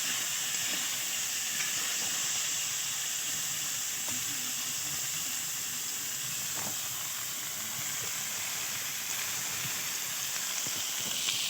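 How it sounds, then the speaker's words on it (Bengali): Sajne drumsticks frying in hot fish oil from fried pangas and tengra fish, a steady broad sizzle and hiss running evenly throughout with faint crackles, no voices. "এবারে সেই মাছের তেলে ভাজা তেলে ডাঁটাগুলো দিয়ে দিলাম ভেজে নেওয়ার জন্য"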